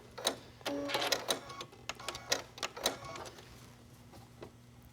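A sewing machine stitches back and forth across a strap in short bursts, its needle clattering rapidly and pausing between passes, close and fairly quiet with no talk.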